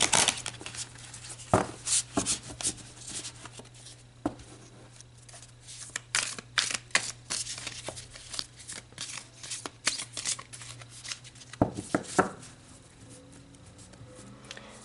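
Deck of tarot cards being shuffled close up, a run of crisp riffling and flicking bursts with soft taps and slides between them, no talking.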